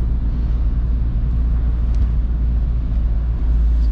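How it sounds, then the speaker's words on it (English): A VW Golf 3 1.9 TDI 90 HP four-cylinder diesel drones steadily from inside the cabin while driving in fourth gear on a rainy road, a constant low rumble with no breaks. "But doesn't feel right, this car, because the engine is 4-cylinder."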